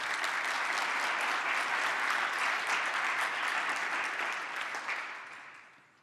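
An audience at a creative entrepreneurship talk in Valencia, Spain, applauds the organizers with a dense, even roar of clapping that holds steady and then fades out toward the end, with no talking.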